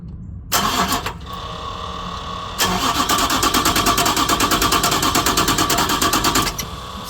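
A truck's starter cranks the engine on jump-box power, first in a short burst, then in a long, loud, rhythmic churning run of several seconds that never catches, with no voices over it.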